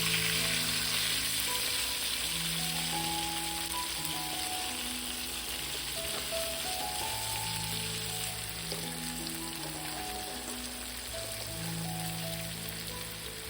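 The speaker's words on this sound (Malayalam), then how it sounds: "ഇനി നമുക്ക് ചെമ്മീൻ്റെ ഒരു സൈഡ് വേവുന്നതിനായിട്ട് ഒരു 5 മിനിറ്റ് വെയിറ്റ് ചെയ്യാം" Steady, crackling sizzle of shrimp frying in a pan for a Kerala-style shrimp roast, continuous and fairly close, with gentle background music and no talk.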